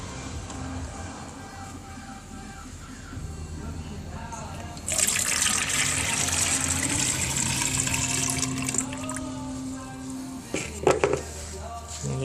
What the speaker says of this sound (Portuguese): Vou botar uma água aqui pra ver.